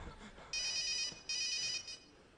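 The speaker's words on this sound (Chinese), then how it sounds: "你听我电话响了" A mobile phone ringtone rings during a comedy sketch on stage, two bright electronic bursts of trilling tones separated by a short gap, moderately loud over a quiet, roomy background without talking.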